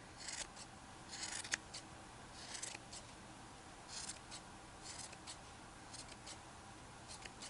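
Scissors snipping a brown pom-pom for a bunny craft, several soft, quiet cuts in irregular bursts with no talking.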